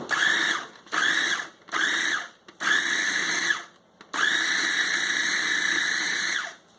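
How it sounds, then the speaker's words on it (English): Food processor pulsing onion and garlic cloves into a paste, several short whirring bursts separated by brief pauses, then one longer sustained run, loud and close with a high motor whine. "put that in the food processor along with as much garlic as you want, 5 to 10 cloves. We're going to give it a little pulse"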